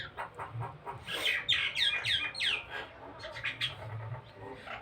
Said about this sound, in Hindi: चिड़िया अपने भाषा में बोल रही है।